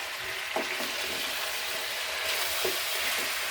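Biryani ingredients and spices fry in hot oil in a pan, a soft continuous sizzle and hiss with a few faint stirring scrapes.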